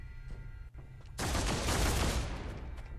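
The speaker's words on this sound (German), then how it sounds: "Was war das denn für ein Schuss?" After a quiet moment, a sudden dense burst of rapid gunfire in the video game Warhammer 40,000: Deathwatch erupts and rattles on for about two seconds.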